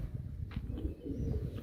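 Ferozpuri pigeons coo softly in a loft, with low rolling coos repeating over a murmuring background and a couple of faint higher chirps in between.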